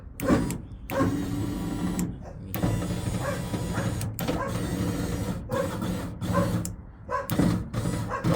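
A Nu-Relics power window regulator drives the glass of a Monte Carlo car window, a steady motorized hum running almost the whole time, broken by short pauses and clunks as it stops and restarts.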